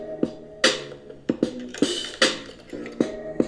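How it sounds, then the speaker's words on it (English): Music blasting loud from an iHip Jambar Bluetooth speaker, a hip-hop track with sharp punchy beats recurring roughly every half second over sustained bass and tonal layers, no talking. "we're going to pull up a song and we're going to crank it up"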